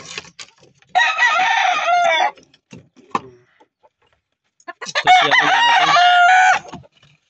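A Golden Boy Sweater gamefowl rooster crows twice loudly and close, each crow lasting over a second, with soft clucks and scratchy noises in the quiet pause between.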